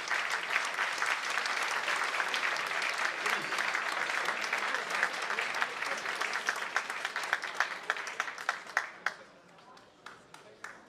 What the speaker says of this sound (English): a good applause